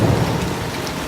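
Rain falls over the Amazon rainforest in a dense, continuous hiss of drops with a low rumble beneath, steady and fairly loud with no voices.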